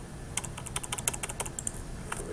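Fingers type on a computer keyboard in a quick, uneven run of light clicks, close and fairly quiet, with no talking.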